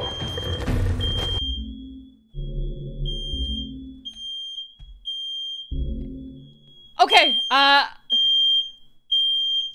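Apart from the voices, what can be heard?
fire alarm going off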